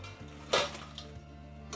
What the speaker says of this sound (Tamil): எண்ணெய் நல்லா வடிஞ்சிச்சுங்க நான் பிளேட்டுக்கு மாற்றிக்கிறேன்